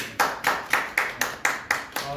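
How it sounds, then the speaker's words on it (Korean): Church congregation at a Sunday service claps in a steady, rhythmic beat, about four claps per second, strong and unison, for a newly appointed deacon. "박수해 주세요."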